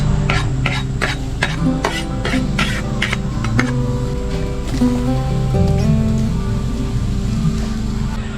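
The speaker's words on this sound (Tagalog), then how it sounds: "Lutuin natin ngayon yung ginatang. Ginatang palos." Eel simmered in coconut milk for ginataang palos is stirred in a pot, giving repeated sharp scraping strokes over a dense bubbling, sizzling bed, loud and close with no speech.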